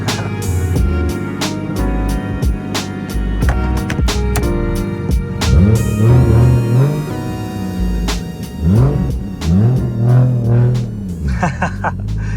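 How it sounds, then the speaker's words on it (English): Toyota JZX100 Chaser fitted with a titanium exhaust and catless downpipe, revving hard in repeated rising and falling pulls, loud and close, with a deep rumble throughout. "Titanium exhaust, APEXi Catless downpipe, pretty sick combo."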